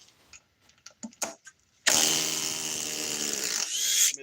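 A DeWalt 860 impact driver revs up and runs loud and steady for about two seconds after a few faint clicks and handling knocks, then cuts off.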